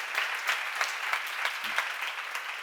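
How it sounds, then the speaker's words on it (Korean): Steady applause from a church congregation during a seminar sermon, a dense even wash of many hands clapping at moderate distance, with a faint voice briefly underneath. "박수."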